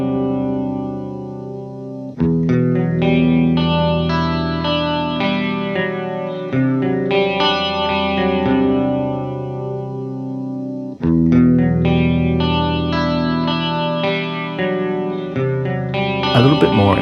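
Clean electric guitar through a PitchFork detune pedal set for a micropitch chorus of a few cents plays sustained, ringing chords in mono, shimmering and gently wavering, with two fresh strums and a scratchy slide at the end.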